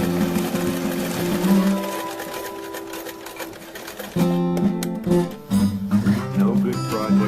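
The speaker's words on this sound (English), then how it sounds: "now the actual sewing is being done" Sewing machine stitching cut fabric shapes for a DIY project, a continuous close mechanical whir with rhythmic needle clatter throughout, changing speed partway, under a speaking voice.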